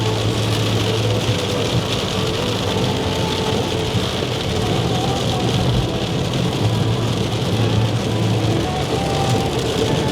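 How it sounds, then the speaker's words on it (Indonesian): Heavy rain drumming on a car driving along a toll road near Palimanan, a dense constant hiss mixed with steady road and engine rumble from inside the cabin. "Hujan deras banget nih"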